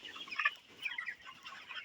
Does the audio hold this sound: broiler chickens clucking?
yes